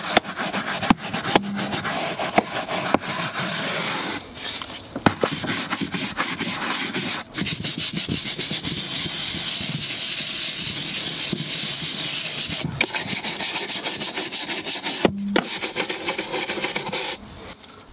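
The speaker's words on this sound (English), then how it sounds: "agitate it into the mat with the Tough Shine tyre brush" A Tough Shine tyre brush scrubs cleaner into a BMW 340i car floor mat with continuous brisk rubbing strokes, close and steady, with a couple of brief pauses and no talk.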